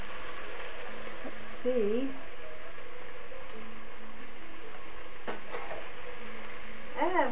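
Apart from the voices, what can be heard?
stirring vegetables frying in a pan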